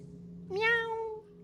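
A single cat meow rises and falls in pitch for about a second over a low steady hum, used as an effect in a French horror-mystery tabletop role-playing game session set around a cemetery.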